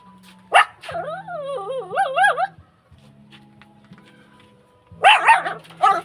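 A dog barks in a short burst, then a wavering, whining yelp, followed later by another cluster of barks, all close and fairly loud.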